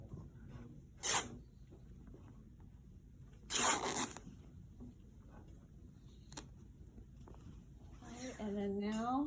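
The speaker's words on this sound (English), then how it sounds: "Now I'm going to go from the selvage here to 20 inches and make a cut and rip there." Fabric is ripped by hand after a cut, giving two short, sharp tearing bursts a few seconds apart, with quieter handling noise between and a voice speaking near the end.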